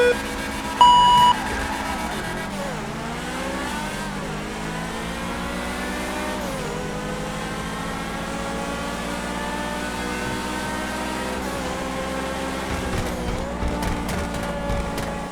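Race cars in a GTA 5 race between a McLaren and a Bugatti, Progen versus Truffade, with loud sustained engine whine rising and falling through gear shifts, a few beeps near the start and no talk.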